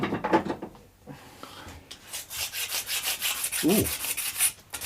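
A fine-cut Shinto rasp files wood during a baritone guitar build, giving a steady scraping rub that runs in repeated strokes through most of the moment, close and fairly loud, with a brief exclaimed voice near the start.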